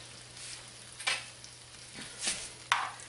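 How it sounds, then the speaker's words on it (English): Potatoes sautéing and browning in a pan for lobster hash give a quiet, steady sizzle, with a few brief louder crackles and stirring scrapes over the faint frying hiss. "I'm going to saute and brown my potatoes and get them completely done"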